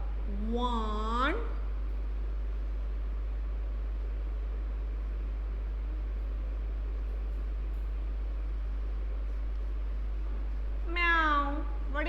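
A cat meows twice, once near the start and again near the end, with a long stretch of steady low hum and hiss between the calls.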